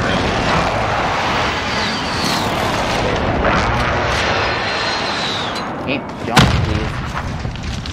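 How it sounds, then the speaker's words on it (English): Airstrike in a Call of Duty Plunder match: dense, continuous roar of aircraft and explosion rumble, with a sharper blast near the end, beneath players talking over voice chat. "Enemy position airstrike, take cover!"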